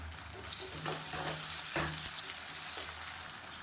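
Onion and chopped tomato sautéing in a pan, a soft, steady sizzle with a few light stirring scrapes, close but fairly quiet.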